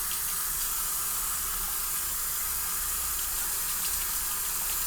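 Water gushing from a bathroom tap into a sink, a loud continuous close-up hiss and splash that stays steady without a break.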